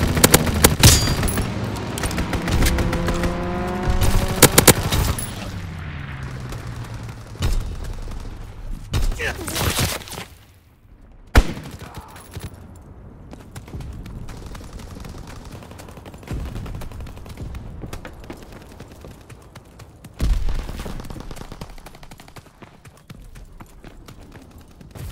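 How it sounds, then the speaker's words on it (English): Bursts of rapid strafing gunfire from a fighter plane in the Call of Duty WWII team deathmatch on the Egypt map, mixed with scattered shots, booms and game voices, loud and close at first, then intermittent. "Fighter pilot inbound, strafing the target."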